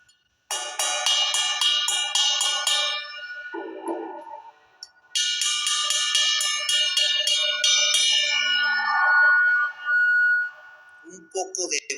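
A Meinl-style medium ride cymbal struck on its bell, ringing bright metallic pings in two quick repeated runs with a few softer taps between, close and clear with short gaps of silence.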